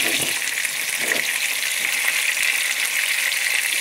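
Fish frying in a hot pan gives a steady, dense sizzle that holds evenly throughout, close and fairly loud, with no voices over it.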